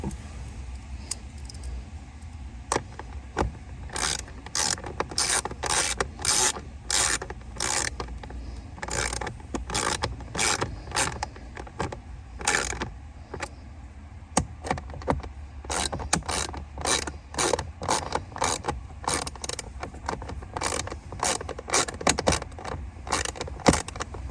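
Screws being tightened down on the blower motor of a Honda Accord, a run of quick metallic ratcheting clicks in close bursts over a steady low background hum, with no talk.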